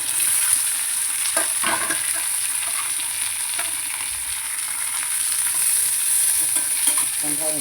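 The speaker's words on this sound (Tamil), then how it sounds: "இந்த பூண்டு வந்து கருவேப்பிலை போட்டு வதக்கணும். வதங்கிட்ட பிறகு இந்த வெங்காயம்" Garlic, curry leaves and onion sauté in hot oil with a constant bright sizzle, while a spoon stirs and scrapes the pan in a few short, close strokes, and nobody speaks.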